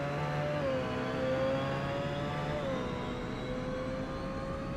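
Race car engine in the Forza Motorsport racing game, a steady whining drone with tonal pitch that slides slightly lower and holds, sustained and fairly loud with no talk.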